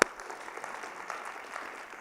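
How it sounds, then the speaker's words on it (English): A school event crowd claps steadily, a dense wash of applause filling the room from start to finish at moderate loudness. "let's give this man a round of applause"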